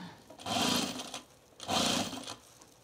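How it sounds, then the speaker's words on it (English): A sewing machine stitches binding onto a fabric oven mitt in two steady, close bursts of about a second each, with a short pause between them. "we're gonna sew it on a quarter inch"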